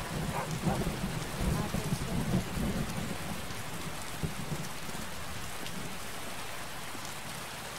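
Steady rain pouring down in a Skyrim game world with low rumbling thunder, a dense continuous hiss with heavier rolling swells early on, fairly quiet and without talk.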